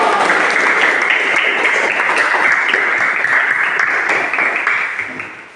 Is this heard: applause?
yes